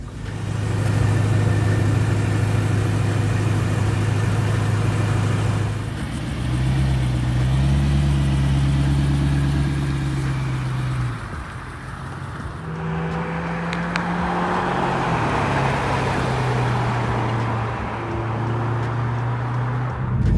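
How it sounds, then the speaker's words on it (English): A BMW E92 M3 passing by outside with its engine note rising and falling, a loud steady drone that shifts pitch across two passes over about twenty seconds, with no talking. "I'm gonna go ahead and do some drive-bys here so you can see the lights on from outside"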